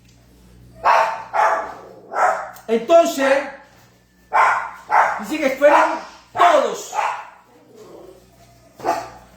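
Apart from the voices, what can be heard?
dog barking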